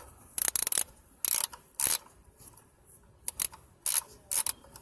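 A ratchet wrench loosens the 8 mm bolt on the crankshaft position sensor of a 1999 Chevy Suburban, giving about six short bursts of rapid, close metallic clicking separated by pauses.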